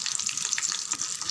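Dried red chillies fry in a pan of hot oil, giving a steady close crackling sizzle with faint bubbling throughout and no voices.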